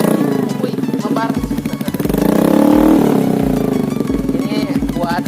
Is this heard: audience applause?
no